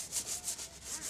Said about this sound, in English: has to spend scrubbing the bloodstains off the goddamn floor